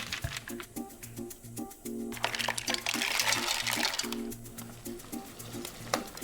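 Clams and water drain into a pot of broth, a continuous splashing pour that swells in the middle, with soft clinks and a low hum underneath.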